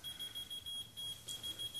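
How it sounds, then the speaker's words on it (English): Small electronic keychain alarm beeping in a steady, repeated high-pitched tone, fairly faint and continuous with rhythmic pulsing, no talk over it. "And you've taken that beeping thing."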